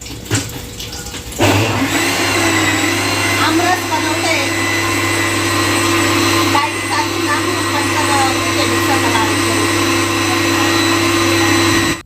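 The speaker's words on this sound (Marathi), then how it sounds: "अर्धा आंब्याचा रस मी मिक्सरच्या भांड्यामध्ये केला" Mixer grinder blending mango pulp for aamras in a home kitchen, starting after a second of quieter room sound and then running as a loud, steady motor whine with churning for the rest of the stretch.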